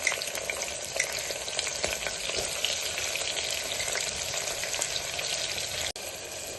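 Green chilies fry in a pan for goat head curry, a dense, steady crackling sizzle with a few stirring scrapes, close and continuous, ending with a brief sharp clunk near the end.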